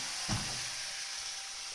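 Beef and vegetable stir fry sizzling hard in a pan, a steady close hiss of frying with a brief thump and rustle as vegetables drop in near the start.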